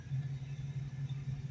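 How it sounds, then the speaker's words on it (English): A procharged 2004 Ford Mustang Mach 1 engine idles with a steady, low, even rumble, fairly quiet and unbroken, with no voices. "Just thought I'd show her real quick just how nice she idles and everything."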